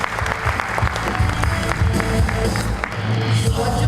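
An audience claps steadily after a CEO's speech at a ceramics company's pre-launch event in Pattaya, a dense, moderately loud patter of many hands with a faint voice underneath.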